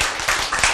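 Church audience clapping during a sermon, a short burst of several quick claps, close and fairly loud.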